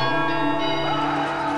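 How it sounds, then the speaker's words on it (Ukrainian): Monastery church bells ring at St. Michael's Golden-Domed Monastery, a loud, sustained metallic chime with long overlapping tones and steady resonance, with no voices over it. "монастирські дзвони били день і ніч"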